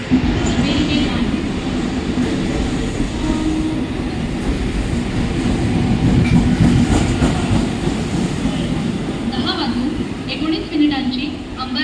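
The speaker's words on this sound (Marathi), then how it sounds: "एक जलद गाडी जाने वाली है." A fast Mumbai local train rumbles through a station with a steady, loud roar and wheel clatter, while platform announcements and voices carry over it throughout.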